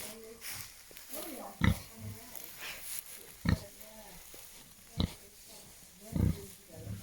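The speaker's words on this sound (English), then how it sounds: "Beautiful piggies." Pigs grunt and oink close by in short, loud bursts spaced a second or two apart, with softer snuffling and low grunts filling the gaps between them.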